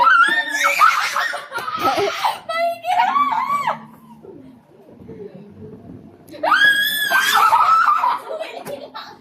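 Children shrieking and laughing loudly while playing a hit-and-shield game, with high piercing screams in bursts separated by a quieter gap of chatter.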